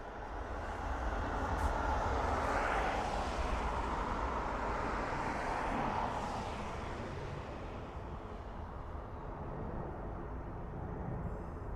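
An aircraft at Dublin Airport bound for Reykjavik, a broad roaring engine rumble that swells over the first seconds and then slowly fades as it moves away, heard alone at a distance.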